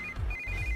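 A short electronic phone ringtone chirps in two bursts of a high steady tone over a low rumble, quiet and close.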